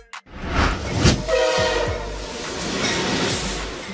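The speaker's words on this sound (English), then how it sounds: "Freight train." A freight train rolls past loudly and close, its horn sounding a sustained tonal blast over the rumbling rush of the passing cars.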